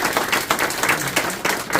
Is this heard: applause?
yes